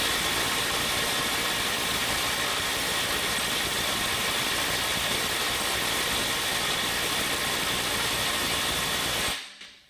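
A Milwaukee M12 FUEL Stubby 2554 impact wrench hammers steadily on a stuck bolt for about nine seconds, a dense, continuous, loud rattle that cuts off abruptly near the end.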